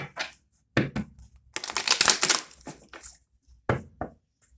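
Papery shuffling and riffling of tarot cards comes in short bursts, with one longer riffle in the middle, close and crisp with gaps between.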